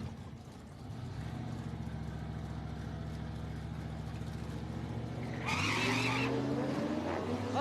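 Drag race cars, the Krusty Crapper against a BMW convertible, roar loudly at an outdoor raceway, a steady engine drone joined near the end by a sharp rising rev and high-pitched burst.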